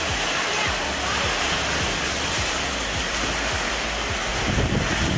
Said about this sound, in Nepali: पानी डेन्जर परिरहेछ